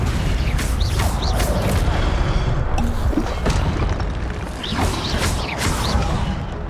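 Spell-casting effects from Hogwarts Legacy boom and crackle in quick succession, loud and dense, with mechanical creaks and whooshing swells layered over a constant roar of game action.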